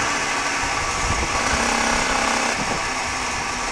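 A 450 V-twin motorcycle engine under way on a ride, a loud continuous broadband roar with wind rush and a buzzing mechanical drone that holds steady throughout, with no voices.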